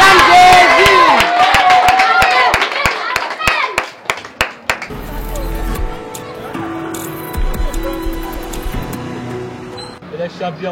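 A church congregation claps in a dense, rhythmic burst with cheering voices, the applause strong for several seconds before fading into murmuring crowd sounds and scattered talk.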